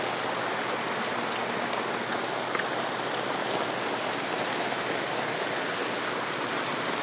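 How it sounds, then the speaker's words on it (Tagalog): Steady rain falls during a sun shower, a dense, even hiss of drops pattering on surfaces, continuous and unbroken with no voices. "Ulan araw."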